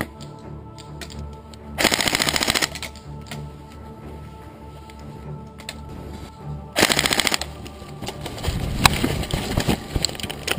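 Airsoft guns spray BBs during a live battle game, with two loud rapid-fire bursts cutting through a quieter field background of scattered shots and rustling.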